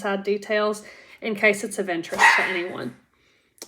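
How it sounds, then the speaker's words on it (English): A dog barks indoors during a sewing session, a few short yips and barks mixed in with and partly masked by someone talking, then quiet. "Excuse the dog."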